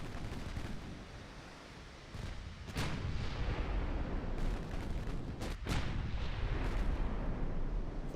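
Heavy naval gunfire from a battleship's secondary guns in the Ultimate Admiral: Dreadnoughts naval warfare game, with a steady roar of repeated booming shots that swell and fade over several seconds, no voices.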